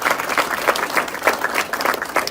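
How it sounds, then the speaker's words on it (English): Audience at a town hall meeting in Chehalis, Washington, clapping steadily in a dense, even round of applause, moderately loud and close. "I say that knowing I will get applause"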